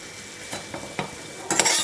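Sundakkai masala with chana dal is stirred in a pan: a few scraping strokes of a spoon over a soft sizzle, building to a louder burst of stirring at the end, with no voices.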